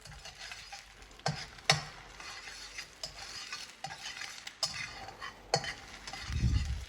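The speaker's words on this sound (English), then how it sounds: "Heat your wok, add 1 egg. Whisk it all about." An egg being whisked and frying in a hot wok, with close metallic scraping and clinking strokes over a soft sizzle, ending in a louder burst of frying, no talk.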